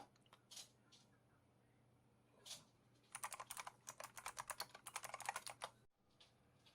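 Keys clack in bursts on a wet Micronics Manic X50 optical-switch keyboard, a few isolated presses and then a rapid flurry of typing, close and crisp with a slight squishy edge.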